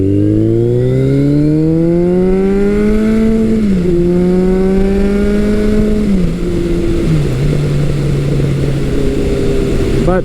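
Kawasaki motorcycle engine, a KZ1000 or ZRX1200R with short gearing, pulling hard under acceleration on a ride, its steady rising drone climbing through the gears with brief dips at shifts, loud and close with wind noise throughout.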